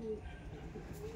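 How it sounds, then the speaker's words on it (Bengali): A pigeon gives a soft, low coo at close range, a short throaty murmur over faint background hum. "উফ পায়রাটা দেখুন"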